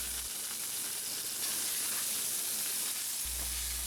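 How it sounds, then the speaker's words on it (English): Steak frying in a cast iron pan while being basted with butter, giving a close, steady, bright sizzle that holds evenly throughout, with a low rumble at the start and end. "Add a little butter after about 4 minutes and baste the steak constantly until it's finished cooking"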